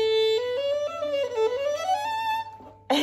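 Violin played with a huge chunky rubber practice mute on the bridge gives a muffled, nasal melodic line of several notes gliding upward, quiet and close, ending with a short noisy burst.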